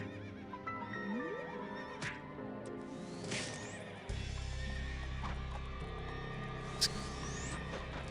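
An angry-looking horse in the fantasy online game Ragnarok Online whinnies, with several neighs and clip-clop hoofbeats over a busy backdrop of game music and effects, moderately loud and without talk.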